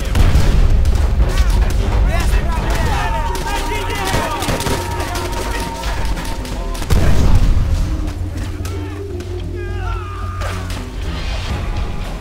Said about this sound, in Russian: Ещё один пулемёт!